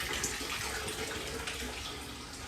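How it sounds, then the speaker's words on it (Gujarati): Water running from a household tap, a faint, steady wash of splashing flow with no break and no voices. "આ આપણું ચકલી થી પાણી આવે છે નળમાંથી"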